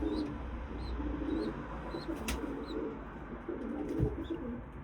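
Domestic pigeons coo in soft repeated bursts close by, over a steady background of low rumble and faint chirps, with no one speaking.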